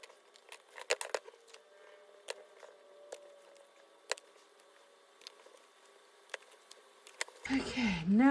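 Scissors cutting paper tags from a masterboard, a sparse run of faint snips and small ticks spread irregularly, quiet and close, ending with a burst of voice.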